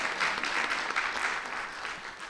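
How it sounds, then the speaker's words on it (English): Audience applause fills a launch event for the Encyclopedia of Indianapolis, a steady, full round of clapping heard alone at close range. "that deserves a round of applause"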